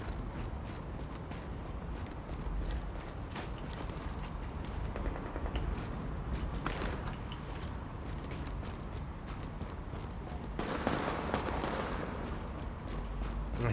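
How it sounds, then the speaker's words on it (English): Scattered gunshots in an outdoor setting, rapid irregular pops and bursts at middle distance over a rustling background, with a denser flurry near the end. "I hear the gunshots, but I don't see them."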